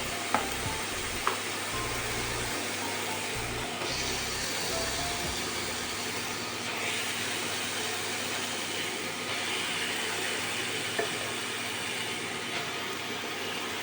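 Mashed potato goes into a pan of fried spices, and a continuous, close hiss of sizzling oil holds steady throughout with no talking.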